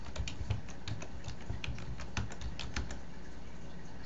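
A password is typed on a computer keyboard, a quick irregular run of light clicking keystrokes, close and fairly soft, with no talking.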